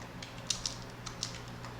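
Quiet computer keyboard keystrokes entering matrix elements, a handful of light, irregular clicks spaced apart over a faint background hum.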